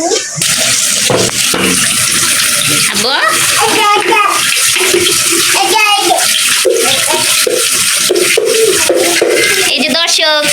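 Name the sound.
water splashing while bathing a child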